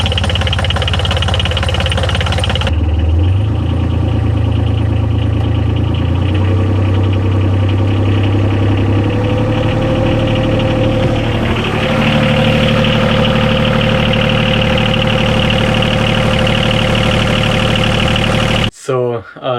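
A boat engine idles steadily after repair work, a continuous low rumbling drone with slight uneven stuttering, loud and close, running nearly the whole time before cutting off abruptly at the end.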